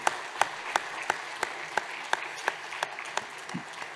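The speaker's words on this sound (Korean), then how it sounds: "우리 박수로 축복해 주시기 바랍니다." At a Christmas Sunday church service, the congregation claps in unison to bless three people as they take their seats, sharp claps landing on a regular beat roughly three times a second.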